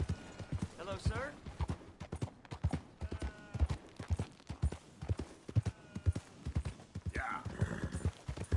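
Horse hooves clip-clop at a steady trotting rhythm in the Red Dead Redemption 2 video game, with a couple of brief whinnies and character voices speaking over the hoofbeats.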